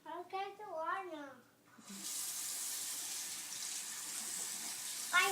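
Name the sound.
water running from a tap for brushing teeth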